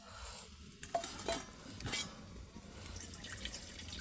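Village-style rahu fish curry masala being stirred in a pan, with soft scraping and clinking strokes and a wet, liquid shuffle, close and fairly quiet, with no voices.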